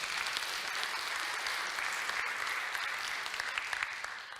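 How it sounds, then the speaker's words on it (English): An audience at a cancer genetics and precision medicine lecture applauds, a fairly quiet, even wash of many hands clapping that holds steady throughout. "you may give an applause if you like."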